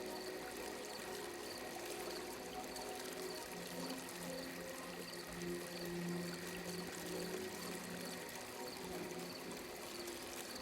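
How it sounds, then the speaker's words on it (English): Gentle flowing, trickling water in a calm ambient setting, a continuous soft pour and burble at low level, steady throughout with no voices. "The water continues its quiet rhythm."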